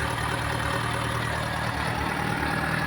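Yamaha FZ6 S Fazer 600 motorcycle engine idling with 37,000 km on it, a steady, even mechanical hum and faint rapid pulsing heard close and alone, without revving.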